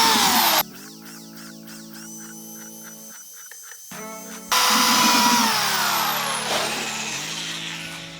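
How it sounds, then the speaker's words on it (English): A power drill boring pilot holes through plywood into 4x4s, loud whining tones that rise and shift across two separate drilling bursts, separated by a brief pause, close by with no talk. "Now I'll drill out all these pilot holes."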